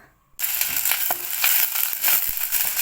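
Ingredients hitting hot cooking oil for sautéing at home burst into a loud, close, continuous sizzle after a brief silence, with occasional clicks of a utensil against the pan and no talking.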